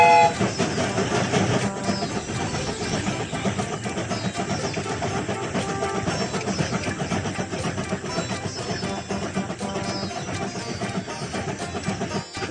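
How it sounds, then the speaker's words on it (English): A cartoon train sets off from the station, with rolling clickety-clack and engine rumble under cheerful music, continuous and fairly loud. "The train is about to start."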